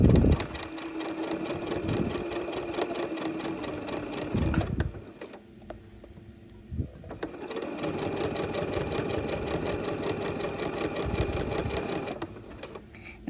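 A sewing machine runs in long, steady whirring bursts as it backstitches around an 18th-century pocket opening, stopping briefly in the middle before starting again, heard up close.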